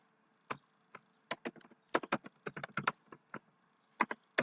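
Keystrokes from SQL code being typed for a SQL Server insert query on a computer keyboard, arriving in irregular bursts of sharp, close clicks with short pauses between them; no talking.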